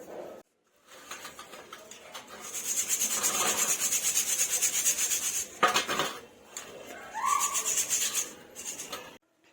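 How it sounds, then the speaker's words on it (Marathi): Half a kilo of flattened rice (poha) being sieved for chivda makes a close, dry rustling and scraping that runs steadily for several seconds, breaks off briefly, then resumes. "इथं मी हे अर्धा किलो पोहे घेतलेले आहेत त्याला पहिलं चाळून घेणार आहे"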